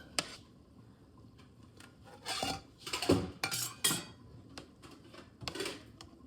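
Meat served from a cooking pot onto plates: scattered clinks and scrapes of cutlery against metal pot and dishes, a denser cluster of clattering midway, with soft kitchen handling noises around it.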